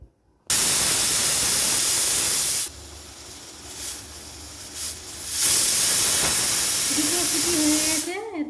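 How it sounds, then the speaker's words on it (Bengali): Loud, steady steam hiss from a pressure cooker of spicy vegetable daliya khichuri on a high gas flame, with a strong opening blast that drops to a softer rushing hiss before swelling again, and a rising whistle-like tone near the end. "তারপর 2টো সিটি হলে আমি গ্যাস বন্ধ করে দেব।"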